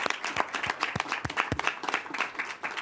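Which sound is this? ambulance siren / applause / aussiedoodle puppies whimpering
applause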